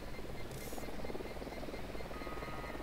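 Helicopter in the video game Ghost Recon Wildlands, a steady droning rotor hum with a brief high whine in the middle, constant and moderately loud without speech.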